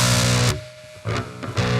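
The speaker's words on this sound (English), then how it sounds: "So now it still sounds like just pure distortion" Heavily distorted electric guitar played through the Amp Designer clean preamp in Logic, with no cabinet added, gives loud, buzzy bursts of sustained chords separated by a short dip and brief choppy strums.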